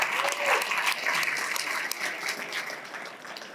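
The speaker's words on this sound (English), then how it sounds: "let's give another round of applause to everybody" An audience in a talk venue applauding steadily for several seconds, dense clapping that gradually fades toward the end.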